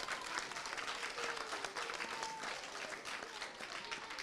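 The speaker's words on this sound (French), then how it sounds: "Vous devez applaudir, hein," Schoolchildren at a Guinean school applauding together, a dense, continuous burst of many small hands clapping that fills the room for several seconds.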